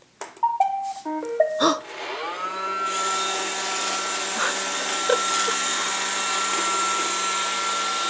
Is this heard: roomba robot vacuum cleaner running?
yes